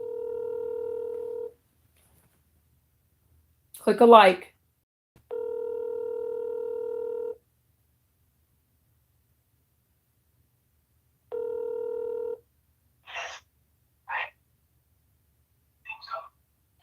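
A telephone call plays out: steady ringback tones pulse in long beeps with gaps, broken by a brief burst of speech, then short dial-tone bursts and faint keypad-like blips toward the end.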